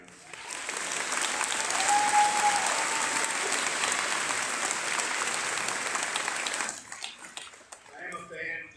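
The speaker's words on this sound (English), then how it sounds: "how about another big round of applause for the band?" Loud, sustained applause from a large audience for a high school band fills the hall for about seven seconds, then tapers off into scattered claps and murmurs.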